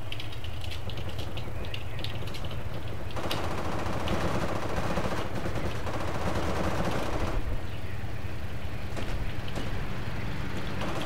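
Gunfire rattles almost nonstop through a Project Reality Battlefield 2 mod match in Muttrah City, with dense bursts of rifle and machine-gun fire and repeated sharp cracks over several seconds, and no voices.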